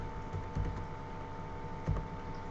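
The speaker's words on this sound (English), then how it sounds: "what we're gonna do is we're gonna type PHP" Computer keyboard typing, a steady run of quick key clicks with two heavier bursts, close and alone over a faint steady electrical hum.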